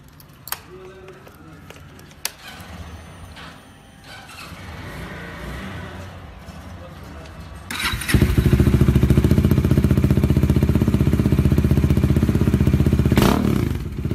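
A Bajaj Dominar D400 motorcycle in a residential society starts up and settles into a loud, steady, deep exhaust idle after some quieter clatter and background noise.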